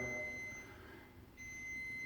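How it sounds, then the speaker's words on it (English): A fire alarm goes off in a housing block, a faint, steady electronic tone heard through a closed door that holds on continuously with only a brief dip. "you can hear and see quite clearly that there is an alarm going off."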